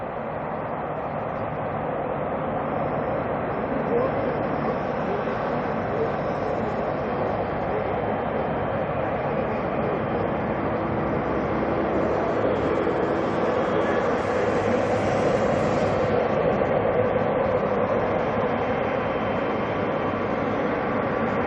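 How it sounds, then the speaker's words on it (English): An ATR turboprop departs at night from Auckland Airport, its propellers and engines making a steady, even roar that swells slightly midway and stays fairly distant and soft throughout. "listen to that moist air getting chopped up by the props on the ATR."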